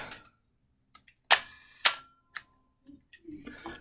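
A Dakota RZ-2000 camera's metal-bladed shutter clicks open at slow shutter speed and, after a noticeable pause, snaps shut, with a few smaller mechanical ticks and clicks around it.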